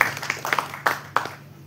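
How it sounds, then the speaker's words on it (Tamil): A few scattered hand claps sound from the audience at a Tamil film press meet, five or so uneven claps that are moderately loud, close, and tail off quickly. "அதுக்காக நம்ம எல்லாரும் கைத்தட்டலாம்."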